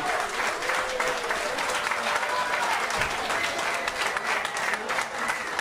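An audience at the Godiva Festival singer-songwriter final in 2017 gives sustained applause for the singer. The clapping is dense and steady throughout, with a few faint voices mixed into the crowd.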